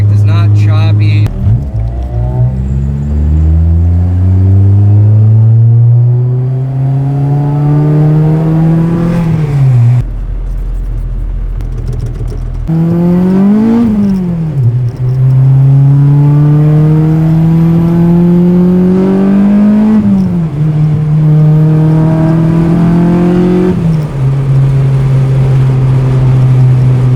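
An Acura TSX fitted with new Hybrid Racing shifter cables revs loudly and close. The engine pitch climbs steadily through each gear, then dips sharply at every shift, repeating several times.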